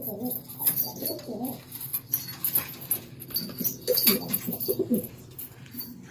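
Pigeons coo in low, throaty, repeated bursts up close, mixed with scattered higher bird calls and faint rustling, with no talk.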